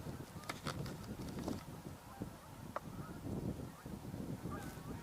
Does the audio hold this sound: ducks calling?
yes